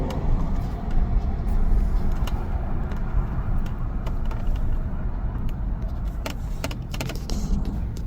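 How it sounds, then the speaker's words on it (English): Road traffic passes along 27th Ave beside a strip mall, a continuous rumble of cars with scattered sharper clicks and whooshes from passing vehicles, fairly loud and without speech. "And there's a lot of traffic."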